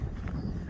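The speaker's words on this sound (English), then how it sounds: "the ultimate amount of wind that we're having" Strong wind buffets the microphone with a steady low rumble and roar, loud and constant throughout the short moment.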